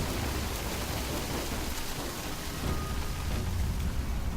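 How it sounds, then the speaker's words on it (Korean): A stormy scene in the video game Middle-earth: Shadow of Mordor brings a faint, continuous hiss of rain with a low, muffled rumble of thunder beneath it. "아주 바람직해 보이는 번개의 모습 보여주고요"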